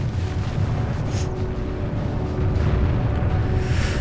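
Distant artillery fire rumbles through a World War II real-time strategy battle, Germany against the Soviet Union, a steady low roar of booms and blasts running continuously with no talk.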